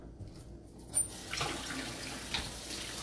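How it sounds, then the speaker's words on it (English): Tap water running over hands at a kitchen sink, a steady broadband wash that swells after a short quiet start and carries on evenly with small splashy bumps. "Let me wash my hands again."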